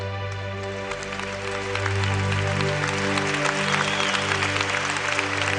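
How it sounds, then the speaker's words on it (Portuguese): A church congregation applauds during a Catholic Mass led by Monsenhor Jonas Abib, a steady, dense clapping that builds slightly and holds over a low sustained musical tone. "Aplauda para valer."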